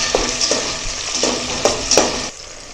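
Onion and a small chopped tomato sauté for duck curry, a bright continuous sizzle broken by several sharp spatula scrapes and taps against the pan, close and alone.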